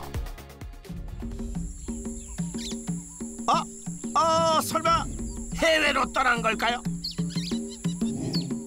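Bird chirps and tweets in a jungle-like tropical plant farm, scattered through a warm outdoor backdrop, sitting mostly beneath a person talking steadily in Korean over them.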